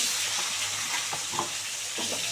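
Potatoes dropped into hot oil with bay leaf and chopped onion, a close, even frying sizzle with faint stirring scrapes and small pops, steady and moderately quiet, no speech.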